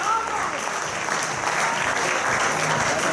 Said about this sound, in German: Ein Applaus für die Jungs,